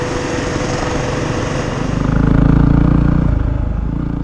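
A Yamaha WR250R dirt bike engine revs while chasing an emu, a close buzzing four-stroke rasp that swells louder midway then eases back, with light clatter.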